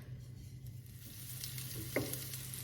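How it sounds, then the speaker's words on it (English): Onions cooking in a pan give a faint, steady sizzle close by, with a single soft scrape near the end and no talking. "I love the smell of onions cooking, y'all."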